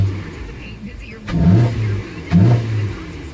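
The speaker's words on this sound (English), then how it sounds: "That's the engine cold air intake making that noise." A Hyundai Sonata with a cold air intake idles, then revs twice in quick succession, each throttle blip giving a rising engine roar with intake whoosh before settling back, heard close up.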